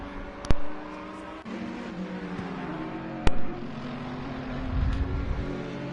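GT3 race cars, a Ferrari and the number 44 Audi, racing at Paul Ricard in a video game: steady engine drone with shifting pitch, two sharp clicks, and a rising engine surge near the end.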